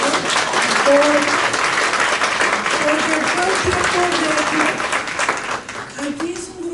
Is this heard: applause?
yes